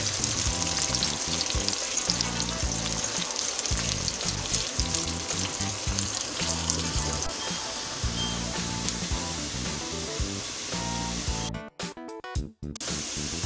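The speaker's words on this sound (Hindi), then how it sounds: "प्याज को ऑयल में फ्राई करेंगे।" Steady, loud sizzling of onions frying in hot oil, continuous crackle throughout, with a brief stir or disturbance near the end.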